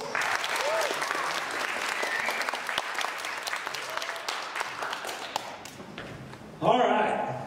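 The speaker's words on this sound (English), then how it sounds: "Give your hand for our 2 finalists." Audience applause for the two finalists at a middle school geography bee, a dense steady wash of clapping filling the hall, swelling louder near the end.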